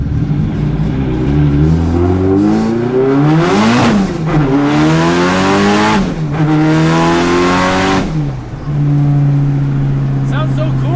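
Nissan R34 GTR with a turbocharged engine revs hard while drifting, the loud engine note climbing and dropping repeatedly with tire squeal, heard close and continuous before settling into a steadier drone.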